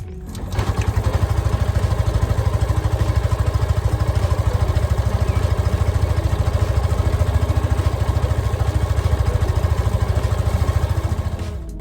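A Yamaha FZ motorcycle engine catches and settles into a steady idle, a close, loud, even low chugging that runs unbroken throughout.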